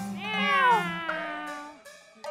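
A person imitates a cat's meow in a high falsetto, Chinese opera-style voice, with one long, sliding, tuneful meow followed by a shorter second call, close and clear.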